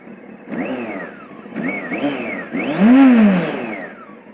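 A 2007 Honda CBF 600 NA (PC38) motorcycle engine, heard up close and on its own, revving in three rising-and-falling bursts, with the last and loudest swell around the middle.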